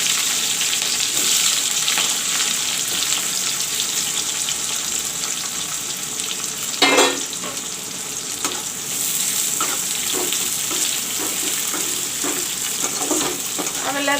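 Onions fry for a rohu fish masala curry, a steady close sizzle with occasional stirring clatter and one sharper knock partway through.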